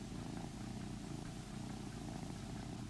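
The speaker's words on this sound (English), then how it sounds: "A harmless, necessary cat." A cat purring up close, a continuous low rumbling purr running evenly throughout, quiet and alone.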